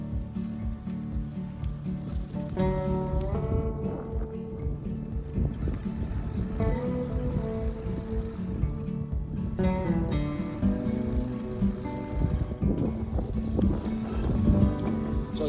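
A 1972 Schwinn Continental bicycle being ridden outdoors, a steady whir of tyres and chain under wind rush on the microphone, continuous and moderately loud, with no voices.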